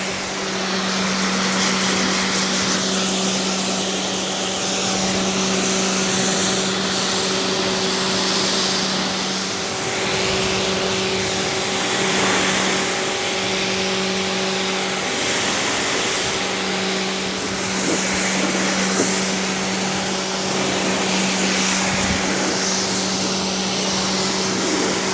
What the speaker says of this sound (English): okay, we're going to jet wash it down.